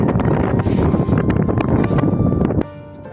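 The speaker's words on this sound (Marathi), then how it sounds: "जोराचा वारा वारा पण सुटलेला आहे" Strong wind before rain buffets the microphone in loud, gusty roars, then abruptly eases to a quieter hiss near the end.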